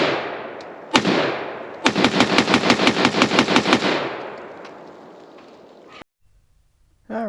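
An HK MR556A1 rifle fires a full magazine at an outdoor range: a lone loud shot, then a quick string of about a dozen sharp reports with ringing echo that fades out, and a few faint sounds near the end.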